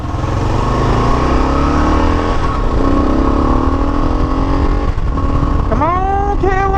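A Kawasaki KLR 650 single-cylinder motorcycle engine accelerates loudly and steadily, its tone rising through the gears, with a rider shouting briefly near the end.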